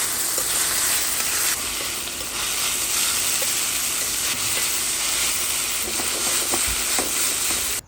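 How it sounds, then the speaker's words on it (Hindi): Prawns frying in a pan with extra oil added for a Goan recheado dish, giving a steady, continuous sizzle and hiss throughout, with faint occasional clinks and stirring, close and moderately loud with no talk. "अब डालते हैं प्रॉन। थोड़ा तेल कम हो गया था, ड्राई ड्राई हो रहा था, तो थोड़ा तेल और डालता हूँ।"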